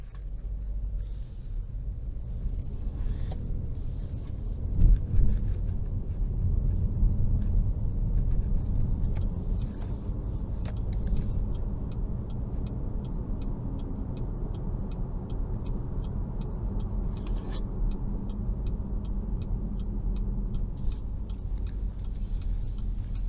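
A 2022 Chevrolet Malibu Premier 2.0T four-door sedan cruises with a steady low road and engine rumble from inside the cabin, joined by faint rhythmic ticking.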